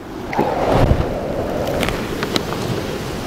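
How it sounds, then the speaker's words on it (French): Wind gusts buffet the microphone in a steady rumbling rush over a vegetable garden and flower plot, with a few sharp knocks and rustles mixed in, fairly close and loud throughout. "Il est con ce vent"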